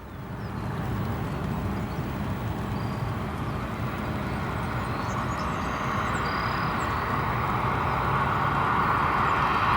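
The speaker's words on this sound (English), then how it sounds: "737 just arriving" A Boeing 737 airliner arrives on the runway at O'Hare, a steady distant roar of jet engines that swells slowly and holds without a break.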